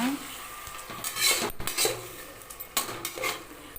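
Tomatoes sautéed and stirred in a pan while making mushroom biryani, with a spoon clinking and scraping against the metal in short bursts over a faint, low sizzle.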